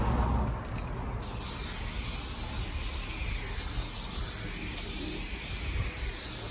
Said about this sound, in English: So we're going to put our clear lacquer, gloss clear lacquer on these parts now.